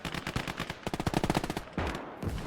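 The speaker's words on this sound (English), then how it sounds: "MG42 taking 3 guys out that were just easily accessible" An MG42 machine gun fires in the World War II video game Gates of Hell, rapid bursts of sharp close shots in a fast rhythm, pausing briefly before another sustained burst, with no talk.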